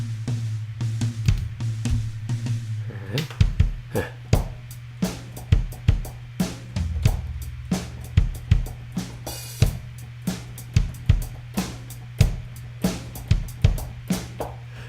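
A software drum kit in Logic Pro X plays a steady beat of kicks, snares and hi-hats over a low sustained tone, with one bright cymbal crash partway through.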